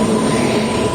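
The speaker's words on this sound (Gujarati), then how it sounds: "દાદરથી લઈને ભગત કી કોઠી સુધી જવાવાળી આ ટ્રેન અમલસાડને ક્રોસ કરી રહી છે" A Dadar–Bhagat Ki Kothi express train passes Amalsad station, a loud, steady broadband roar of wheels and carriages sustained close by for a brief moment.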